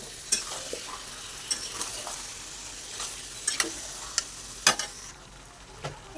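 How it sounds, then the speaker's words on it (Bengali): Potatoes are added to a frying pan and sizzle softly and steadily, with sharp spatula clinks and taps scattered irregularly across the quiet, close-up frying. "আলুগুলো এর সঙ্গে দিয়ে দিচ্ছি"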